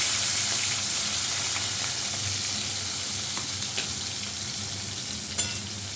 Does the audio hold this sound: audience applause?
no